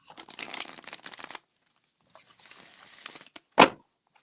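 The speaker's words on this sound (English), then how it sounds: "I'm gonna do some more shuffling here." Cards riffled and shuffled up close, a long fluttering burst, a pause, then a softer shuffle and a sharp tap as the deck is squared.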